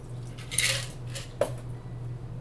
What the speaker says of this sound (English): Then strain onto fresh ice.